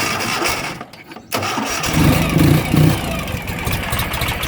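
A 2009 Ural GearUp 2WD motorcycle engine cranks after a brief pause, then catches and settles into a loud, steady, lumpy idle close by.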